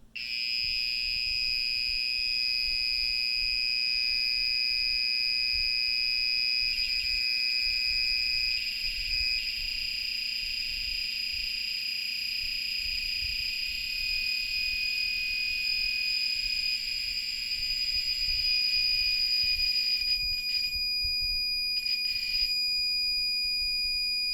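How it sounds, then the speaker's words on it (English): A steady electronic alarm beeps and flutters without pause during a scooter battery test, a shrill sustained tone that shifts slightly partway through and briefly breaks near the end, heard alone. "It's going to more of a fluttering to a full-out beeping sound."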